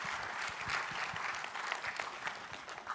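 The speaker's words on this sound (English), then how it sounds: "please give him a big round of applause" Applause from the audience at a climate innovation competition finals, a continuous dense patter of many hands clapping at steady moderate level throughout, slightly distant and roomy.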